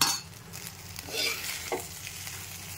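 Raw mango chitrannam rice is mixed in a pan with a spoon, giving soft close scraping and stirring with a faint sizzle and a few light clinks over about three seconds.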